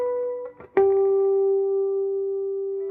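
Electric guitar played through a Henriksen Bud 6 jazz amp with reverb set at halfway: a brief plucked lead-in, then one clear sustained note ringing out with a reverb tail, loud and alone with no talking.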